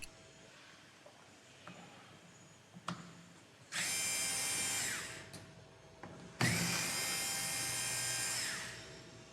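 A power driver removes two screws from the brake lever of a General Transmissions CVT RT400, with two whirring bursts of a few seconds each, close and loud, separated by small clicks and handling knocks.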